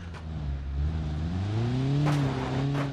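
A car engine revs hard while climbing a slippery slope in the BeamNG video game, a loud continuous droning growl whose pitch rises and wavers as the throttle is held, with no speech.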